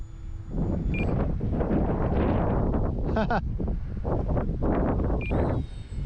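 Rough, gusty wind buffeting the microphone at an RC plane flying field, a loud rumbling low roar throughout with a few faint beeps, and someone talking over it.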